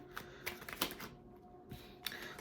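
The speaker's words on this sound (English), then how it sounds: "as I'm shuffling the cards" Tarot cards are shuffled in quick crisp bursts of riffling and flicking, with a short pause in the middle, close and fairly quiet.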